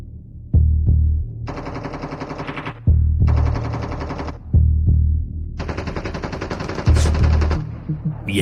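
Bursts of automatic gunfire in Call of Duty Mobile, loud close rapid fire in several long strings separated by short pauses and heavy thuds, with no talking.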